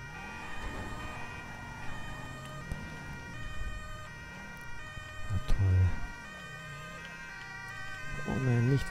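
Ambulance siren in GTA V, a wailing tone rising and falling with layered harmonics, sustained and close, mixed with driving noise and game sounds.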